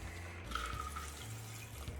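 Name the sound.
pouring margarita through a strainer into a glass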